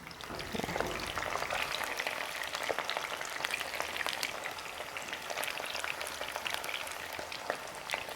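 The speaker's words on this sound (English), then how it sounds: "we don't want to deep fry them for too long" Oil sizzles and crackles steadily in a deep fry for Swahili chicken biryani, a dense, faint hiss with scattered pops, heard alone.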